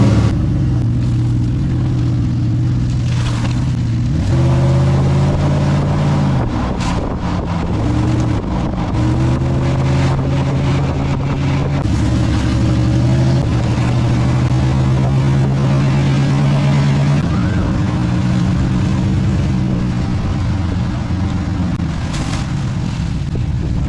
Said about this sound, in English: Alright, we're going for a test drive.